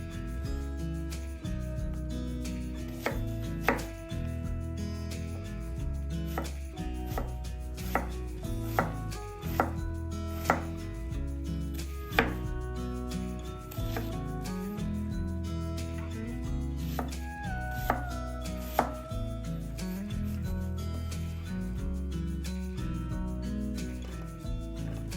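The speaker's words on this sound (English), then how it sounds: "Cut one onion." A knife chops an onion on a cutting board, with crisp, regular cuts coming one after another throughout, set against steady background music.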